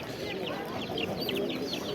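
Chickens and chicks at a busy Karakol poultry market cluck and cheep in quick repeated calls over a low crowd murmur.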